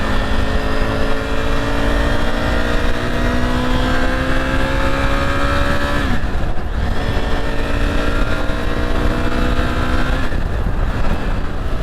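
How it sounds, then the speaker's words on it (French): Motorcycle engine droning steadily while riding on a rainy road, loud and close, with rising pitch through each gear and two brief dips at the shifts, plus constant wind rush. "Est-ce que je vous ai dit comment j'adore le son de ma moto?"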